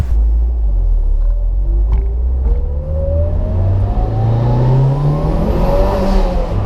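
A Mitsubishi Evo 8 engine with a new air intake and blow-off valve revs up steadily, a loud rumbling drone that climbs in pitch across several seconds, close and continuous with no talking.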